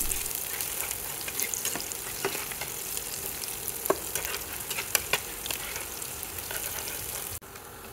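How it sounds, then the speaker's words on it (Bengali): Onion frying in a pan gives a steady close sizzle, with scattered clicks of stirring against the pan and a brief drop at the end. "এখন পেঁয়াজটাকে কিছুক্ষণ ভেজে নেব।"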